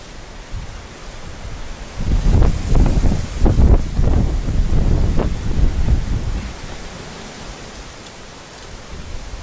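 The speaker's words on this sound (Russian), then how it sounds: "Ветер еще с такими порывами идет." Strong wind gusts roar and buffet the microphone in rising and falling surges on a river, loud and rumbling, with no voices.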